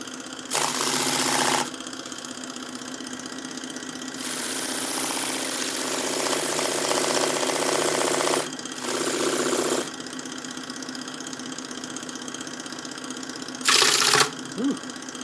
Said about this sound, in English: So I'm just gonna sand this thing a little bit.